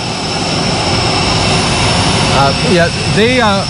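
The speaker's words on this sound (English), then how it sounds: "When the airplane appeared, and I'll be really honest with you guys, it was a super low approach" Jet airplane making a super low approach at an outdoor presidential arrival event, a loud continuous engine roar filling the scene, with a person talking over it and brief whistling near the end.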